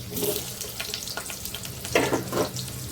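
Potatoes frying in hot oil give a steady close sizzle with crackling bursts and a few louder spatters near the end, no voices.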